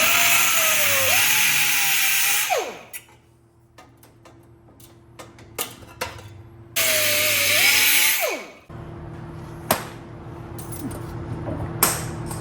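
A power tool cuts through an exhaust pipe near a V-band, with two loud whining runs of several seconds each as the motor's pitch sags under load. Clicks, taps and ticking handling noises fill the pauses between cuts.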